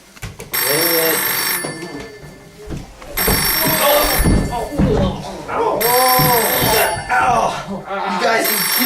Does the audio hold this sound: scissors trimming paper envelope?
no